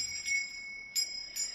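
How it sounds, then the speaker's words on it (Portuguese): Small bell hanging from a piece of Arraiolos wool rings three times, bright and clear with a lingering metallic shimmer, close and otherwise quiet. "Trouxe um sino, aqui pendurado num bocadinho de lã de arraiolos."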